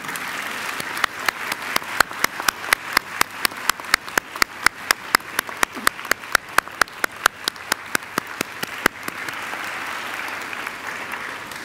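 Graduates at a university graduation ceremony give a sustained round of applause to their families and friends, a dense hall full of clapping with sharp individual claps standing out, steady and loud throughout.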